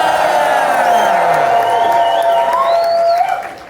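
A crowd at a convention closing ceremony cheers and whoops loudly for a few seconds, the mixed voices rising and then fading out at the end.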